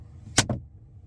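A Tesla Model 3 Highland glovebox is shut, producing a sharp close-up snap followed immediately by a softer second knock, then a quiet car interior.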